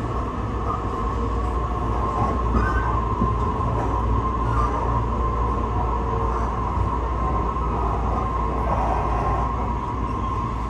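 Steady rumbling of an Urban Park Line train arriving at Kasukabe station, moderately loud, with a low mechanical hum and occasional faint squeaks, no voices.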